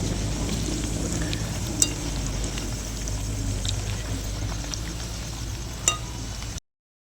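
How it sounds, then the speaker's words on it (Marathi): Pumpkin puris fry in hot, spattering oil. The dense, loud crackling hiss stays continuous, with two sharp pops standing out, and then cuts off abruptly. "असं बघा तेल उडलं पाहिजे."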